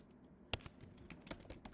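Computer keyboard typing during manual data entry in Microsoft Excel, heard as a quick run of close, sharp key clicks after a brief quiet start, with no talk.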